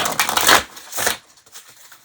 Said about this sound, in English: I'm going to shuffle it a little bit more